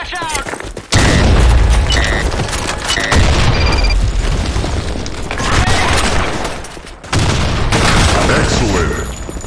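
Loud, dense gunfire and heavy booms from a flashbang grenade fill a Counter-Strike match, with rapid shots layered in continuous bursts and brief drops between volleys.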